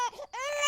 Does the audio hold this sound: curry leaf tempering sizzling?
no